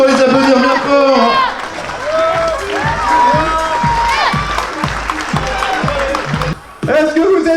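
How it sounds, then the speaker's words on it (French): An outdoor rally crowd applauds and cheers the winners, steady clapping and shouts running beneath a loud announcer's voice, with a brief dip near the end. "Et on peut encore les applaudir bien fort."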